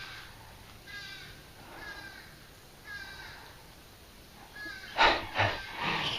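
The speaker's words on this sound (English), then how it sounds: "Sounds like a crow or a blackbird or something." A crow or blackbird calls outdoors at an old relic digging site, a few hoarse, drawn-out caws spaced apart and rather distant, then a louder, harsher burst of calls near the end, with no one talking.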